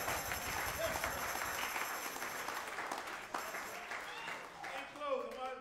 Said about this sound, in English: Everybody ought to clap your hand right there.